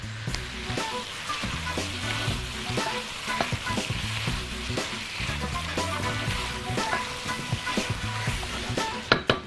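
Chicken drumsticks sauté with onion and a spoonful of tomato paste in a hot pan, a constant close sizzle punctuated by repeated scraping and stirring knocks, with a couple of sharper clanks near the end; no voices.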